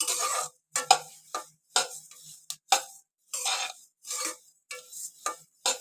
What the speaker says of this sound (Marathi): राहिलेले दाणे आहेत ना ते पण मी असेच भाजून घेणार आहे